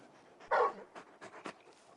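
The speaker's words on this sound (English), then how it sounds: "You're just a big puppy, aren't you? A very big puppy." Torgal, a large dog in the video game Final Fantasy XVI, pants close by in a few quick, breathy bursts, the first one loudest, over a quiet background.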